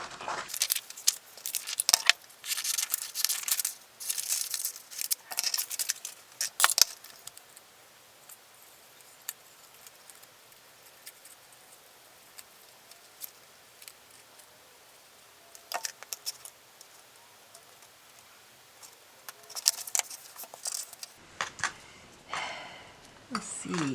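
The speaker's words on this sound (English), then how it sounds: "So the next one I want to do is I want to cut out these mushrooms." Scissors snip mushroom pictures out of paper for a surreal collage, with close, crisp cuts and rustling paper in bursts and short quiet gaps between them.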